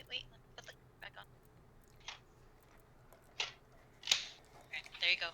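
A pet chews food up close, with scattered short crunchy bites and clicks over a faint low hum, the bites growing sharper and denser toward the end.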